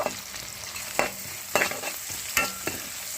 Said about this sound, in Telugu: పచ్చిమిరపకాయలు, ఉల్లిపాయలు బాగా వేగాలి.